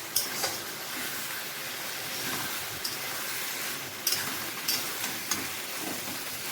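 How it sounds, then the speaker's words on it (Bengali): Vegetables seasoned with red chilli powder stirred in a frying pan, a steady close sizzle with a few sharp scrapes and clicks of the spatula scattered through it. "রেড চিলি পাউডার অল্প একটু দিয়ে দিলাম এখন এটাকে খুব সুন্দর করে নাড়াচাড়া করবো"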